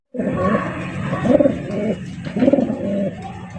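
A male pigeon coos close up in two deep, throaty rolling bursts over a low background murmur.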